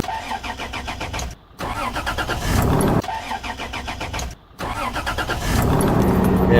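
A cold diesel engine cranks on a lithium battery, churning loudly and rhythmically, then catches and runs. The cranking-and-starting sequence repeats, close and loud, with no voices over it.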